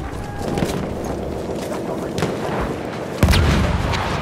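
A grenade detonates in the World War I shooter Battlefield 1 during the Kaiserschlacht spring offensive: one loud, close blast late in the clip, rising over continuous battlefield rumble and gunfire, with soldiers' voices in the mix.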